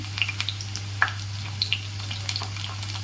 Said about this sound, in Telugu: మనకి ఆనియన్స్ అనేవి చక్కగా వేగిపోయాయి సో ఈ విధంగా గోల్డెన్ బ్రౌన్ కలర్ వస్తే సరిపోతుంది